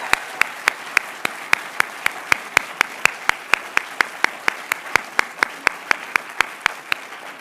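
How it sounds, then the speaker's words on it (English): At a literary prize ceremony, an audience applauds the writers with a soft background wash of clapping, while one nearby pair of hands claps crisply and steadily, about three times a second, standing out above the rest. "One more round of applause for these amazing writers."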